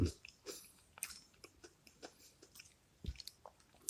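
Someone chews a chewy chocolate candy from a Kinder Joy surprise egg, with soft, close, wet chewing and small crunchy bites spread over a few seconds at low volume.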